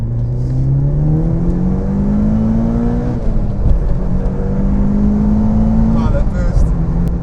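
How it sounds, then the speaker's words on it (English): A Mitsubishi Lancer Evolution VIII's engine drones loudly from inside, the exhaust note rising steadily as it revs through the gears, easing off, then climbing again. "All right, Ruch, what's the exhaust sound like on this thing?"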